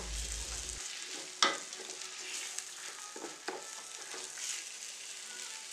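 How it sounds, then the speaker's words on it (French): Tomato paste browning in a pan of already browned ingredients, stirred with a spoon: a soft continuous sizzle with several scraping strokes and a sharp clink near the start, close and fairly quiet, with no speech. "ajoutez une bonne cuillère à soupe de tomates concentrées. Et mélangez le tout, bien roussir le tout."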